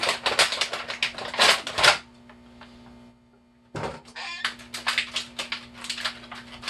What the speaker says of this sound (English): Sorry about all that crinkling.